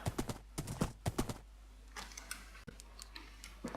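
Horse hooves clip-clop in Minecraft 1.6, first in a quick cluster of sharp, close steps, then in sparser, softer clops that continue to the end.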